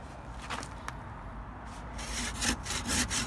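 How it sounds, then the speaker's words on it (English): A handsaw cutting through the timber ends of a garden room base frame outdoors, with steady rasping strokes that grow louder and more forceful toward the end, close and without talk. "strike a line on there and cut that off, cut the other end off so it drops down"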